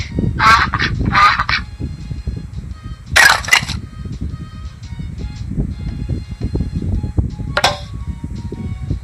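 A baby jigsaw puzzle toy plays a recorded duck sound, giving two quick quacking bursts near the start, another around three seconds and a last one near the end, over background noise.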